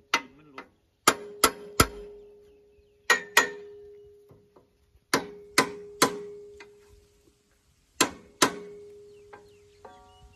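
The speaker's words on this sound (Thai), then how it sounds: "เคาะให้ขี้มันหลุด" Sharp metallic knocks ring out from a Kubota tractor's disc plough as caked dried mud is struck loose, spaced single and paired clangs with short resonant tails and quiet gaps between them, close up and no talk.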